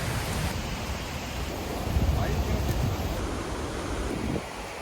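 Steady broadband rushing of a waterfall near Pakse or Don Det in Laos, heard continuously as a dense roar with some wind buffeting on the microphone, no clear speech.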